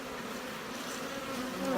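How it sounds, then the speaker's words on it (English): Honey bees hum over brood comb in a hive used for queen rearing, a dense, steady buzz of many insects close by that swells slightly at the end. "those bees are already moving up to cover that brood"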